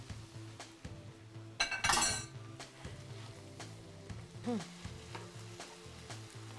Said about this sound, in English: you get to smell all these wonderful aromas coming out of this pan as it's frying